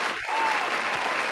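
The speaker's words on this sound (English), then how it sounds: "can we please give a round of applause for Masdan and Abdul?" A networking event audience breaks into a short burst of applause, steady dense clapping from a crowd for just over a second.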